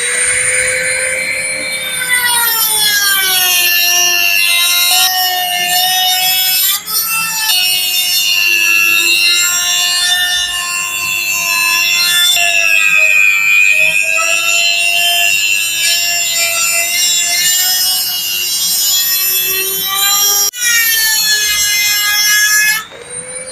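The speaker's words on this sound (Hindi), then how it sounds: "तो यहाँ पर भी आपने देखा कि ये कील को काफ़ी ज़्यादा इजीली इस ग्राइंडर ने कट कर दिया" A mini die grinder cuts through a thick nail, giving a loud, continuous high-pitched metallic whine that holds steady for over twenty seconds, with brief dips as the cut shifts.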